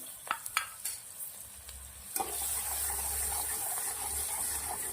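A few clinks and stirring taps, then onion drops into hot oil with popped mustard and cumin seeds, and a loud, steady sizzle of frying continues.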